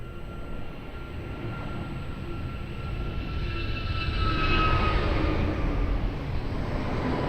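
Jet airliner landing at Lisbon Airport on runway 02, a distant broad roar that swells and then eases, with a faint steady whine above the rumble.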